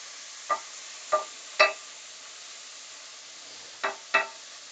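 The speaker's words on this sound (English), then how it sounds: "Nice sizzle. Good hot pan." Lamb searing in a hot pan gives a steady background hiss, broken by five sharp spatters or pops, three early and two near the end, with no talking.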